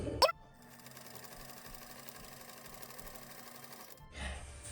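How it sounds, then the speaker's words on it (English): A sewing machine stitches around the edge of a piece of fabric for a Christmas gift, giving a steady, even mechanical whir that lasts about four seconds. A brief clack comes before the run and a short shuffle follows it. "now I'm gonna go around and then sew it all around"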